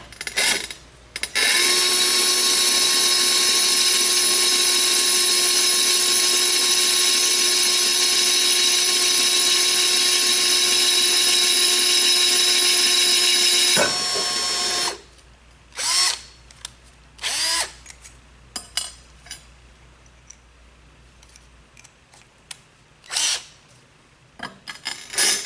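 A power drill fitted with an ARTU PORC Plus diamond bit bores into porcelain tile, whining loud and steady for about twelve seconds. It then stops abruptly, leaving scattered short clicks and handling noises.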